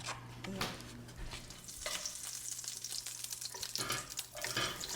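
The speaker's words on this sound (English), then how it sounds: "I have a tablespoon of butter here, and I'm going to saute the onions until they're translucent." Onions sautéing in a tablespoon of butter in a pan, a soft sizzle with scraping stirs and a few louder clatters, some running-water sounds, and no talking.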